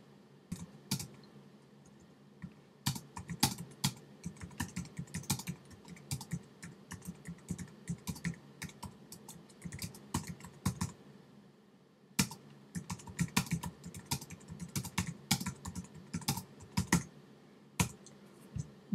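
Typing on a computer keyboard while labels are written for a course page, steady bursts of close clicking keystrokes with short pauses between runs, one longer break midway, and no talking.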